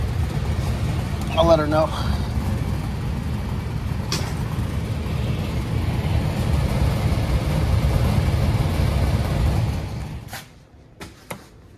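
A Trane LP furnace's fan motor hopping around, a loud, steady low rumble with a faint rattle, running for about ten seconds before cutting off, with a brief spoken line near the end.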